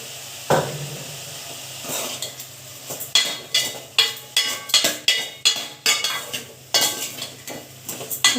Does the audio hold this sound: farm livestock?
no